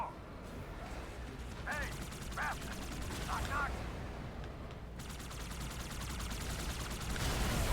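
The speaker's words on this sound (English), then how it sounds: "Oh, oh he's shooting a hole in it." Halo 2 Anniversary gunfire rattles in rapid, fairly quiet automatic bursts over continuous game noise and a low rumble, with some mechanical creaks and tones mixed in.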